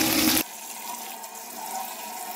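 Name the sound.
tap water poured over boiled egg noodles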